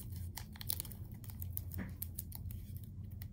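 Masking tape tears with several quick, faint crackly rips and rustles close by, against a low background hum.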